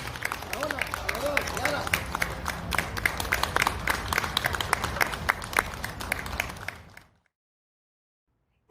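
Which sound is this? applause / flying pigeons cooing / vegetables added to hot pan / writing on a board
applause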